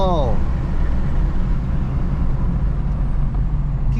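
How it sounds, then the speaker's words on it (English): Diesel pickup truck on 35-inch tires spinning them loose, a loud steady broadband roar of engine and tire rush filling the whole clip, with a brief whine at the start and people talking under it. "Wanting to break the tires loose"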